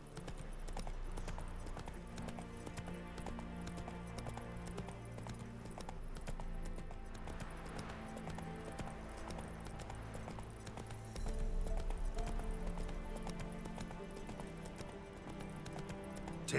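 Hooves of Roach, Geralt's horse in The Witcher 3 video game, clip-clop in a steady galloping rhythm throughout, close and prominent over a continuous game music bed, with an occasional whinny.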